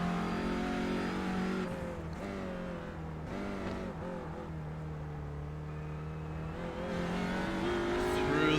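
A TCR touring race car's engine drones and revs on track during a Winter-VLN endurance season finale, steady and loud throughout with shifting pitch through gear changes, under commentary.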